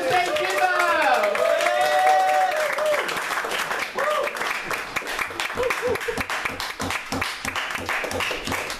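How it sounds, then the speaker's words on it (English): An audience launches a round of applause to welcome a performer on stage; a voice rings out over the opening seconds, then sharp, rapid clapping carries on steadily to the end. "on the count of three, please start the round of applause"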